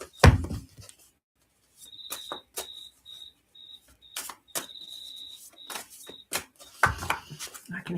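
Cicadas shrill steadily in the background with a pulsing, high-pitched drone broken into bursts, while sharp close taps and clicks punctuate the scene and a thump opens and closes it.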